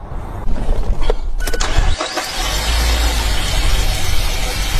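A car engine cranks and catches, then runs loud and close with a steady rumble, during a catalytic converter cleaner treatment on a car with a fault warning light.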